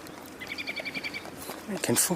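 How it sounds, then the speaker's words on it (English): A soft, rapid trilled chip of a dark-eyed junco repeats several times, followed by a person talking close by. "That is not a chipping sparrow, but a dark-eyed junco."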